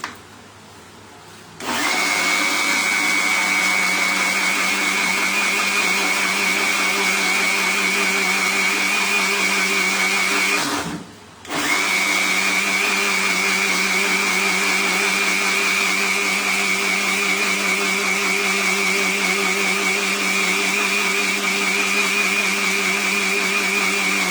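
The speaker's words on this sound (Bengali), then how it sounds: "আমার ব্লেন্ডারটা নষ্ট হয়ে গেছে, যে এখনো হয়নি ব্লেন্ড।" An electric blender runs loudly on orange cake batter with a steady whining motor hum, stopping briefly partway through before starting again and running on; no one speaks.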